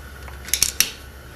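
Scissors snip a new rubber coolant hose to size while a Subaru EJ22 water pump is being replaced, giving three quick, close cuts in a short burst with quiet surroundings.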